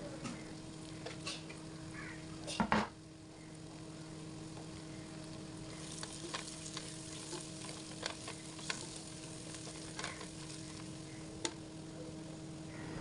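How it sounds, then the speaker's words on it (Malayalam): Tomato masala with turmeric powder being stirred in a pan, giving a soft steady sizzle with occasional spoon scrapes and clinks against the pan, heard alone without talk. "മഞ്ഞൾപ്പൊടി ഇട്ടിട്ട് നല്ലതുപോലെ ഒന്ന് ഇളക്കി കൊടുക്കാം"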